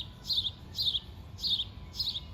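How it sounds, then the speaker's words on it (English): A small bird chirps four times at an even pace, each a bright, quick warbled burst. It sounds moderately close over a quiet, low background hum. "I hear a chirping bird."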